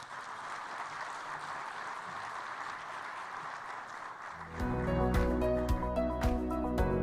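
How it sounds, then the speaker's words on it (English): An audience applauds steadily after a speech by Jamaica's prime minister at a Commonwealth digital-divide session, then upbeat music with drums swells in over the clapping for the last few seconds. "Another round of applause"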